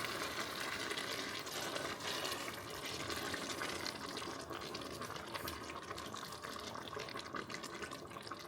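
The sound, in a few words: liquid poured into a pot of chilli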